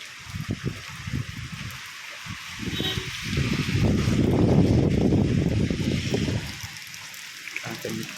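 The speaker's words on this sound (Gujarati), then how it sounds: "તો આ તોફાની વરસાદ છે" Stormy wind and heavy rain roar outdoors, swelling into a loud rushing gust in the middle and easing afterward, with a voice talking over the opening and closing moments.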